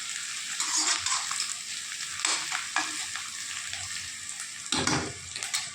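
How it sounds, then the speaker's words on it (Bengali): Onions frying on low heat in a pan, a steady broadband sizzle with occasional stirring scrapes and a louder burst of crackle near the end, close and continuous with no talking. "তুমি দেখতে পাচ্ছ লাল লাল করে আমি একদম পেঁয়াজটাকে ভেজে নিয়েছি।"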